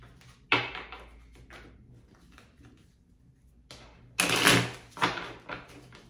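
Tarot cards shuffled by hand, heard as a few short papery clattering bursts near the start and a denser, louder flurry of riffles late in the clip, with quiet gaps between them.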